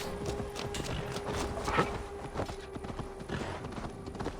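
Horse hooves clip-clop at a steady walking rhythm in the video game Assassin's Creed Valhalla, soft and fairly quiet over a faint background, with no talking over them.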